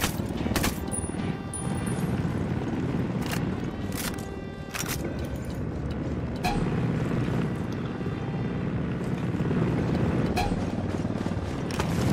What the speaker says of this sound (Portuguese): Pessoal, helicóptero.